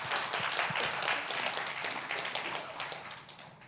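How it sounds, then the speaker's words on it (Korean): A church congregation applauds together at a Christmas worship service, a dense, continuous wash of clapping that holds steady and then slowly thins toward the end, with no talk over it. "우리 경배의 박수 한번 올려드리겠습니다"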